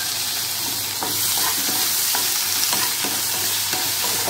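Chopped tomatoes and onions fry loudly in a pan, a constant close sizzle with rhythmic stirring scrapes every half second or so.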